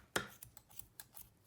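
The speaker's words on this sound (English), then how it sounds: "I'm going to cut several times so that the floss cuts in half" Small scissors snip through embroidery floss for a friendship bracelet, one sharp close cut followed by several lighter, quicker snips.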